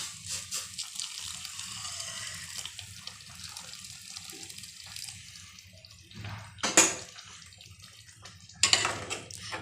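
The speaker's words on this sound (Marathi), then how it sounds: "आता यामध्ये आपण गरम केलेले पाणी टाकणार आहोत" Hot water pours and splashes steadily into a pot of whole masoor lentil curry, with a low bubbling hum underneath and two louder gushes near the end.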